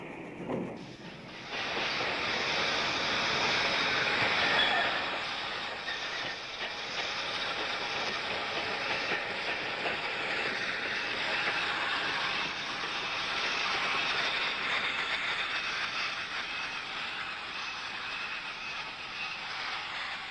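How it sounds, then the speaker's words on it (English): A diesel multiple unit train runs along a branch railway toward a compact station goods yard, its steady rumble and hiss continuous and fairly close throughout, with no talk. "Back on our DMU, we travel the short distance to Seaton with its compact goods yard."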